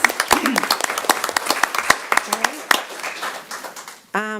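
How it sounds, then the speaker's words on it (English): Scattered clapping from attendees at a city commission meeting, individual sharp claps over a murmur of voices, ending as someone begins speaking into a microphone. "But we applaud them"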